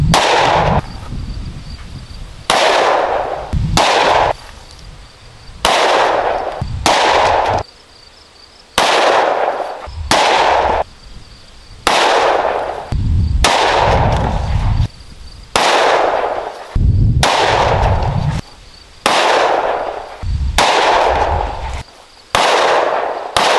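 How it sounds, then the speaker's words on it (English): Ten 9mm pistol rounds are fired one by one at Level 3A ballistic plates, each a loud sharp crack with a ringing impact, spaced irregularly about a second or two apart. "That was 10 more 9mm rounds."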